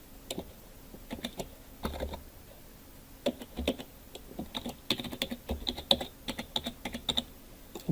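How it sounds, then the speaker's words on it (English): Password being typed on a computer keyboard, a steady run of close, crisp keystroke clicks in uneven bursts with brief pauses, no voices. "I'm going to type in a password."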